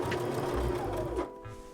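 A sewing machine stitches over the hem of a pair of dress pants in a steady, close mechanical whir that winds down near the end.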